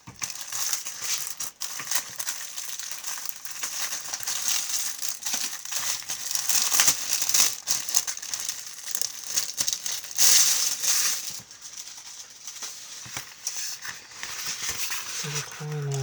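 A large plastic craft-supply pouch being opened and handled, with steady crinkling and rustling of the plastic close by, a few sharper crackles, and a voice speaking quietly underneath.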